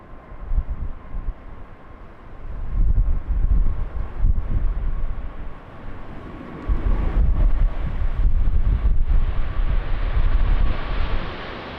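Strong crosswind gusting across Lisbon Airport, a loud, roaring buffet of wind noise that surges and eases in long waves, with a deep low rumble throughout and no voices.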